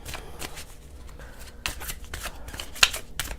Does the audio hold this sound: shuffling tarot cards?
yes